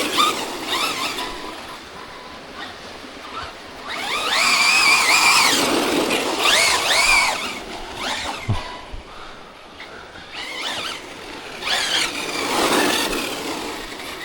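A Team Corally Shiroi 1/8-scale RC truck on Method wheels drives about with high electric motor whine and revving. It surges louder in passes as it approaches and recedes, then returns, with rumbling tyre and gravel noise between passes.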